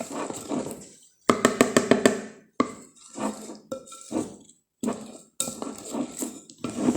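Pancake batter being whisked in a bowl for chocolate-hazelnut stuffed pancakes: bursts of quick rhythmic clinking and knocking against the bowl, separated by brief pauses, up close with no talking.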